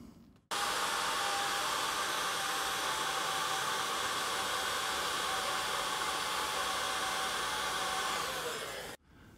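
Metabo cordless battery-powered heat gun blowing hot air for shrinking tubes: a steady, loud whooshing roar with a faint thin whine that starts abruptly, holds evenly for about eight seconds and cuts off, with no talking.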